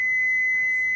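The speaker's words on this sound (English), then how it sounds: "makes a cool little beeping noise that drives you insane until you turn it off" GE Spacesaver radio kitchen timer beeping, a single loud, steady high electronic tone held for about a second, alone.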